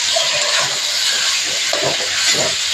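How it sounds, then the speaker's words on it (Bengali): Egg roll filling with meat fries lightly in a pan, giving a steady close sizzle and hiss that lasts the whole few seconds, with faint clinks over it and no talking. "এখন হালকা হালকা ভেজে নেব।"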